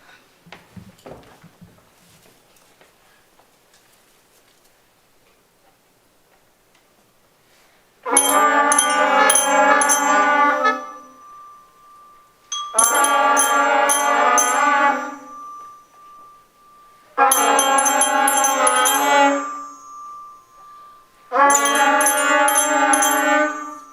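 Fifth-grade elementary school band at a fall concert plays the beginner piece 'Time for Band' in four separate sustained full-band chords with short pauses between, after a quiet, scattered start.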